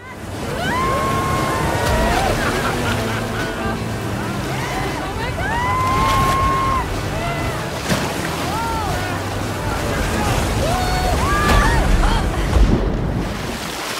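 A boat rushes through river rapids, churning, splashing water with steady roaring wash, while a voice speaks over it.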